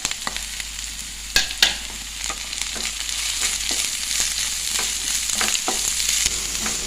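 Shallots and half an onion hit hot oil with curry leaves in a pan for a fish curry, a steady close sizzle with intermittent clicks and scrapes of a spatula stirring, no voices.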